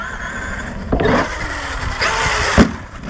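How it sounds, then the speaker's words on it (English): A Traxxas X-Maxx RC monster truck on belted tires jumps a ramp, with a brief loud thump as the chassis slaps down on landing, set against steady motor whine and outdoor noise. "This is where the chassis slapping is going to start for the X-Maxx. That was a loud hit."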